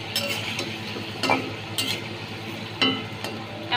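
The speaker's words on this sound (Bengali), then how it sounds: "আর এদিকে আমার আলুটা ধীরে ধীরে ফ্রাই হচ্ছে।" Potatoes fry slowly in oil in a pan for mutton biryani, a soft continuous sizzle with a few brief scraping turns of a spatula, close and fairly quiet, no talking.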